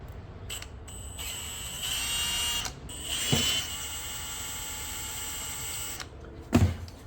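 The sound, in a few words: drill enlarging carburetor jet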